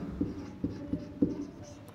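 A pen writes out an equation on paper, with four or five distinct soft scratchy strokes spaced unevenly over a quiet background, close and fairly faint, with no talking.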